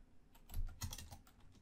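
A computer keyboard is typed on in a short burst of quick, close key clicks, quiet and alone.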